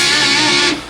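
Electric guitar playing a riff, a loud, heavily distorted sustained chord lasting under a second before it is cut off, with no talking.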